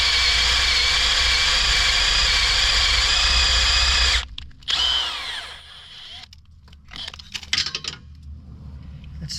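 A power drill bores out an engine thread hole through a repair jig on a 3.6 Pentastar, whining steadily and loud for about four seconds before stopping, then gives short bursts of drilling and scraping as the bit is backed out.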